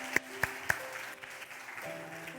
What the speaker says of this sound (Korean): 박수 해주시겠습니다. 박수.